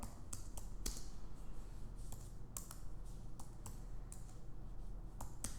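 Typing on a computer keyboard to enter a Flutter upgrade command in a terminal, heard as quiet, irregular clicks and taps over a soft background hiss.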